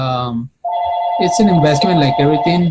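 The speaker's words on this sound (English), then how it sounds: "Sorry for the phone; it's ringing" A telephone rings with a steady electronic bell tone that runs on under a man's speech, loud and close.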